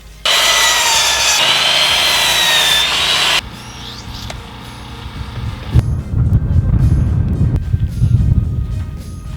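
A power saw cuts through wooden boards for raised garden beds, a loud steady whining rasp for about three seconds, then quieter handling clatter and rustling.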